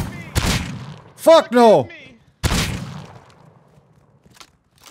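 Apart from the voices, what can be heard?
shotgun firing in Rust video game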